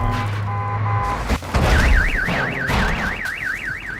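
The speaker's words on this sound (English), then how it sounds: "did you hear me honking the horn driving by?" A car horn and a warbling alarm-like tone ring loud and close in Warzone 2 while the car is driving. A thud and rumbling engine noise sit underneath, and there is no speech.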